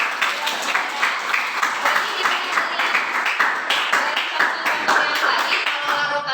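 Students applaud in a chemistry class on types of solutions, a steady run of close, rhythmic hand clapping that keeps going throughout, with faint voices under it.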